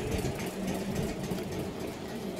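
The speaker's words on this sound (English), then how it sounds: "I love that sound, the sound of the compressor going." A train's air compressor runs steadily in a continuous mechanical chugging drone, with a fast, even rhythm at moderate loudness and no voices.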